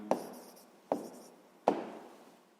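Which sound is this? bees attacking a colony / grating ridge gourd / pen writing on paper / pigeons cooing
pen writing on paper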